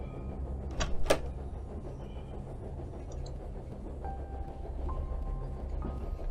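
A sliding door is pulled open in a horror video game aboard a moving train, with a couple of sharp clunks early on, then a scraping slide over a constant low rail rumble.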